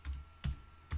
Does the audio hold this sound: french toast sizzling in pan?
no